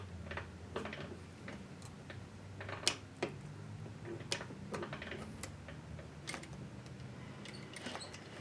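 A sewing machine stitches along the edge of a zippered pillow with a quiet, irregular ticking patter of small clicks and taps, a few sharper knocks standing out over a low steady hum.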